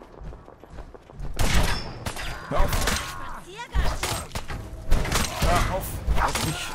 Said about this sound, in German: Überall hören wir in der Ferne Schüsse.